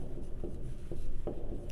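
Chalk or marker scratches across a board in short strokes, close and fairly loud, with faint room noise between marks.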